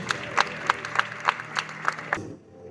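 An Ironman race briefing crowd claps in unison, about eight evenly spaced sharp beats over a light murmur before the clapping abruptly stops.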